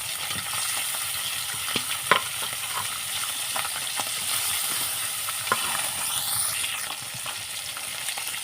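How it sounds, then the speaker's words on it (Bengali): Fish pieces fry in hot oil, added in batches to a pan, giving a steady, fairly loud sizzle throughout with a few sharper pops and utensil clinks scattered over it. "মাছগুলো দেখো এক পিঠ ভাজা হয়ে গেছে"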